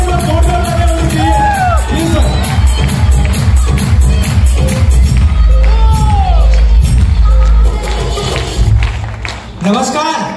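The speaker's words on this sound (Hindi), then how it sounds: "सबके लिए एक बार जोरदार तालियां होनी चाहिए" An audience at a product launch event claps, whoops and cheers loudly and continuously, with crowd shouts over the applause and a booming music bed underneath, easing off near the end.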